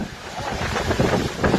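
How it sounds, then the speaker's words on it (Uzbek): Strong wind blows outdoors, a loud, continuous rushing roar buffeting the microphone with gusty swells. "Tashqari shunaqangi bir shamol kelyapti."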